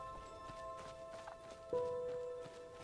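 Horse in the fantasy role-playing game Enderal, a few soft, fairly distant hoof clops in a slow walking rhythm over quiet game ambience and a sustained musical tone.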